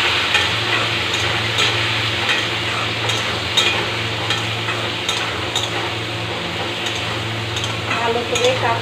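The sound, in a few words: frying spiny gourd (kakrol) with turmeric and salt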